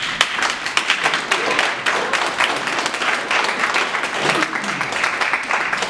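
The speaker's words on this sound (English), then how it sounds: "So I think you should give yourself a round of applause." A crowd applauds steadily, many hands clapping in a dense, continuous patter throughout.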